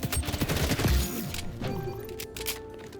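Rapid gunfire from a gun in the shooter game XDefiant, a dense burst of sharp cracks in the first second, then fainter shots and game noise trailing off.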